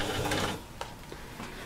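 A sewing machine runs a half-inch seam around a slouchy fabric bag at a shortened stitch length, giving a steady mechanical whir up close that eases off partway through, with a few light clicks.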